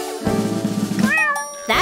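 A cat meows within a children's song, a drawn-out, rising and falling cry standing out over a bouncy musical backing, with a second short meow near the end.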